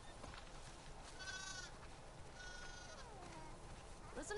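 Faint bleats of sheep in The Last of Us, a few wavering calls spaced apart over a quiet, slightly hissy background.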